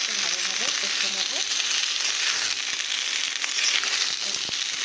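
Ridge gourd and fish sautéing in a pan give a steady, close sizzle throughout, with faint scraping and stirring noises underneath and no talking.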